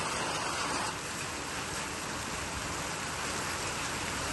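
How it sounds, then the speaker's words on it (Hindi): Hailstones falling outdoors in a late-afternoon storm, a dense, steady hiss of pelting ice and rain that stays loud and even throughout, with no voices. "भाई साहब, इतने महंगा ओले पड़ने लग गए हैं।"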